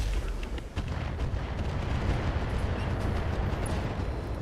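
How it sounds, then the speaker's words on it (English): Rocket salvos firing in the turn-based BattleTech mech game, a dense rumbling barrage of booms and blasts that stays loud and continuous throughout with no talk over it. "Use the rockets also."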